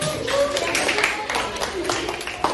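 Students in a classroom clap their hands together, brief scattered claps mixed with voices talking over them.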